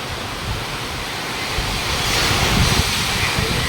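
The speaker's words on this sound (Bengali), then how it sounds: "কত দ্রুত গতিতে হাওয়া বইছে" Strong cyclone wind roars in a continuous, loud broadband rush, buffeting the microphone and building slightly stronger toward the end, with no voices.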